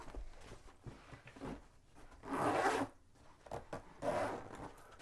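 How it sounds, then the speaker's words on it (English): A bag zipper is pulled shut in two bursts of bright, rasping zipping, each about half a second long, with softer rustling and handling noises between them. The sound is close and there is no talking. "Zip all this up"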